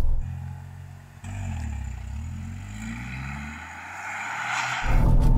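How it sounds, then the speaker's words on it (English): A Dacia Jogger is driven through a slalom course, its engine note rising and falling through gear changes and revving as it accelerates, heard from inside the car with a loud, steady drone and no talking. "I'm going to drive down this slalom course and I'm going to be timed"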